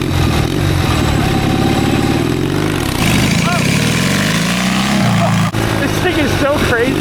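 A twin-cylinder four-speed mini bike with a custom stainless steel exhaust revs hard and close, its engine note rising and falling in throttle bursts while someone talks excitedly over it.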